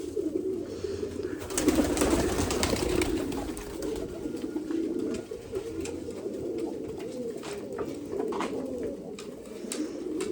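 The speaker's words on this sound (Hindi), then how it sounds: "और ये रहे हमारे सारे कबूतर, हमारे मास्टर के ये सारे फैंसी कबूतर" A flock of fancy pigeons cooing steadily in cold weather, their soft throaty calls overlapping continuously at close range, with a brief scuffle of wing and movement noise early on.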